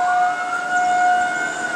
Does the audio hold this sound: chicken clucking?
no